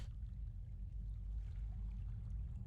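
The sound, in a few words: flowing water in World of Warcraft video game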